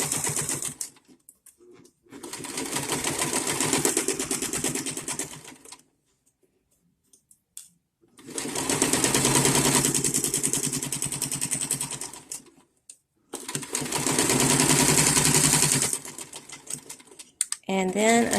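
A sewing machine stitches a fabric shoulder strap with a 3/8 inch seam in three sustained runs of rapid needle rattle, close and steady, separated by short silent pauses.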